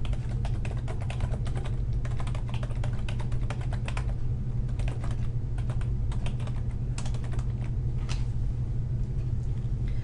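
Text typed on a computer keyboard, a steady stream of close, quick key clicks with brief pauses, over a constant low hum; no speech.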